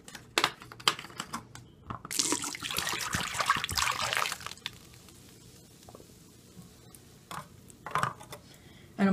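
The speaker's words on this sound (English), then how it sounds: "I'm gonna be rinsing this out really good so that I don't get like actual any of the stuff in here" A tap runs while a bottle is rinsed out, a burst of splashing water in the middle, with scattered clinks and handling noises before and after.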